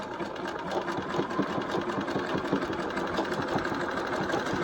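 A Bernina 1230 sewing machine runs steadily, stitching decorative alphabet letters into fabric with a rapid, even mechanical chatter that stays loud and continuous throughout.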